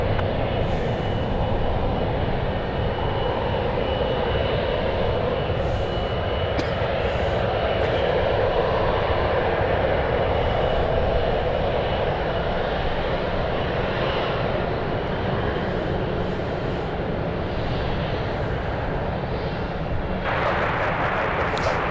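Jet airliner departing San Francisco for Dulles on flight 804, a sustained heavy engine roar at steady loudness, with a brighter hiss rising near the end.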